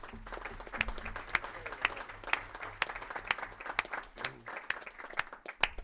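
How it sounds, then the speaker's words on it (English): Members of a Ways and Means subcommittee give their chairman a round of applause, many hands clapping in a dense, steady burst that carries on for several seconds, with a faint low hum underneath. "to give our chairman a round of applause if we can"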